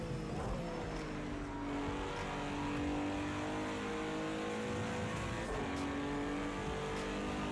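A GT3 race car in Project Cars 2 powers up the hill at Bathurst, its engine droning loud and steady as it climbs through the revs, with a brief gear change partway through.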